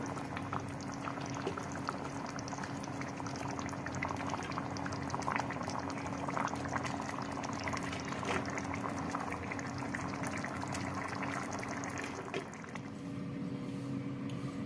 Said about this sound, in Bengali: আলু পটলটা ফুটে গেছে এই মাছের ডিমের পোস্তাগুলো দিয়ে দিলাম